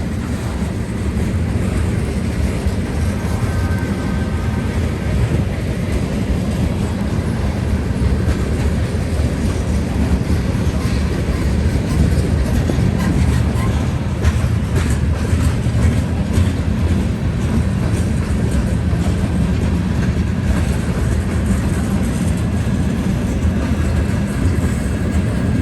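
A heavy freight train rolls past, split into two sections to make a hill, with locomotives working at a crawl. A loud, steady low rumble and rolling clatter run throughout without speech.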